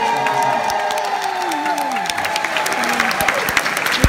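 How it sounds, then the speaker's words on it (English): A comedy weekender crowd at Pontins Prestatyn claps loudly for on-stage volunteers, thick steady applause with a few sharper claps, while someone talks over it. "I think it's only right you give another round of applause for being such wonderful sports."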